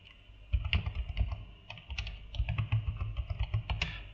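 Java code being typed on a computer keyboard, with rapid uneven clusters of close, crisp key clicks and short pauses between bursts, no voices.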